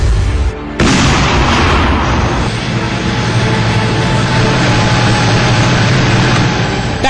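T-90 tanks fire at targets during a military exercise at the KK Ranges in Ahmednagar: a loud, abrupt blast followed by a long, rumbling roar that fills the rest of the clip.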